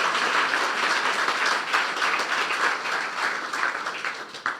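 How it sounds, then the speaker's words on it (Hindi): Congregation applause during a sermon at Ambassadors of Christ Apostolic Church in Dubai, a dense, loud burst of many hands clapping together, sustained throughout and tapering slightly at the end. "इसके लिए हम जोरदार तालियां बजाएंगे"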